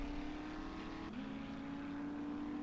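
A car engine in the survival video game 7 Days To Die drones at a steady pitch, dipping briefly and then returning to a constant hum as the vehicle drives along.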